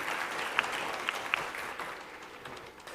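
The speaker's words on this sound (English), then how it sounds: "Give them applause, please." Audience applause at a Bharatanatyam recital after the accompanying musicians are introduced: a steady round of clapping from a seated crowd, with a few sharper individual claps standing out near the start, then slowly thinning.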